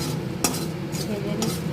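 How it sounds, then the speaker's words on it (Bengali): Bengali five-spice seeds and a bay leaf fry in a hot wok (kadai), a continuous close sizzle with a few sharp metallic clinks of the spatula against the pan. "এইবার কড়াইতে দিয়েছি 5 ফোড়ন, তেজপাতা, এটাকে একটু"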